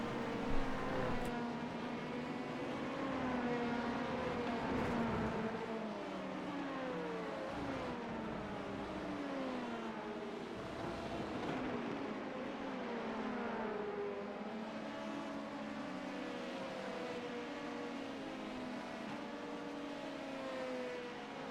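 IMSA race cars in a racing video game, engines droning and shifting pitch steadily as cars run side by side through a chicane, continuous and fairly loud with no talk.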